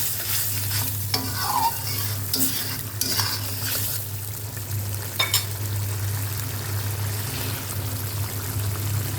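Spice paste (masala) for an eggplant and pangas fish paturi sautéing in a pan, with a steady close sizzle and intermittent scraping stirs over a constant low hum.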